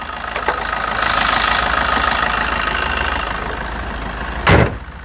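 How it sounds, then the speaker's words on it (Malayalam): A Maruti Suzuki Swift Dzire VDi diesel engine idles steadily with a smooth, even drone heard up close, and a brief louder burst near the end. "എല്ലാം നല്ല ക്ലീൻ ആയിട്ടുള്ള എഞ്ചിനാണ്."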